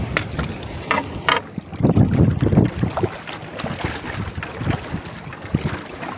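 A strong northeast monsoon wind, the amihan, blows at sea around a small fishing boat, roaring and buffeting the microphone in loud gusts over sloshing water, with the biggest surge in the middle.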